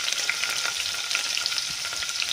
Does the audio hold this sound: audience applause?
no